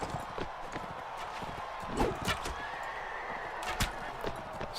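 Horses in a Mount & Blade: Warband tournament, a steady patter of hooves under sharp clashing impacts, with a whinny in the middle of the scene.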